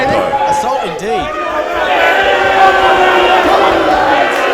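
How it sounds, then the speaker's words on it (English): A crowd at a live wrestling show in Sydney in July 2022 reacts with loud shouts and jeers, the roar swelling and holding steady, with voices calling out above the mass of noise. "And the crowd is not happy to see this"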